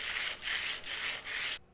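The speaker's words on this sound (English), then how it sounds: "One of the reasons why I'm still continuing on with the sandpaper is because of all the scraping and scratching I'm doing and the pressure I'm putting on it." A steel scrub plane iron is rubbed on sandpaper in four rapid back-and-forth strokes of close, loud, gritty scraping that ends abruptly.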